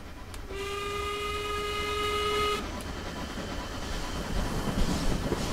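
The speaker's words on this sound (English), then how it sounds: "It is a lovely train." A Terrier 150 steam locomotive on the Isle of Wight Steam Railway in Train Simulator Classic gives one steady whistle blast of about two seconds over a continuous rumble of running along the rails.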